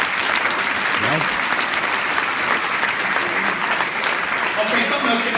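Audience applause at a live talk, with dense, steady clapping sustained throughout and the crowd's noise and some voices mixed underneath.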